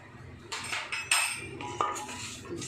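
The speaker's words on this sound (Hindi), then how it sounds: "ये सारा इसमें मैं डाल देती हूँ और इसे हम थोड़ा सा घी में फ्राई करेंगे" Roasted cracked wheat is stirred in ghee in a metal pan, with a few distinct clanks and scrapes of a spoon against the pan over a faint background.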